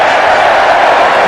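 A rugby crowd at Old Trafford during England versus Argentina in 2009 roars loudly and continuously, a dense, unbroken wall of massed voices with no gaps.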